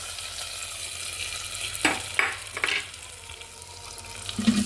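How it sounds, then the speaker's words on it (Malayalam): Prepared cassava pieces drop into a simmering curry, a few wet splashing clunks and stirring sounds over a low bubbling background, close and moderately loud. "ഇനി നമുക്ക് നേരത്തെ തയ്യാറാക്കി വെച്ച് പൂള കൂട്ടാനത്തേക്ക് ഇട്ട് കൊടുക്കാം"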